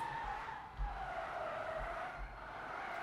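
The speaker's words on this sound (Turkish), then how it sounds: "biraz kayarak gidip vurma olayı var gördüğünüz gibi. Yani sürüklenip duvara vuruyor." In the video game Car Simulator 2, a car slides in a sustained tire skid, a steady squealing hiss over low engine rumble with a couple of soft thumps, at moderate distance and without talk.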